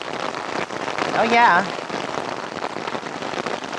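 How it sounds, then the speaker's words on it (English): Sideways monsoon rain pelting down outdoors around catchment ponds and ditches, a dense steady hiss of drops on surfaces with a brief voice spoken partway through. "Oh no, sideways rain."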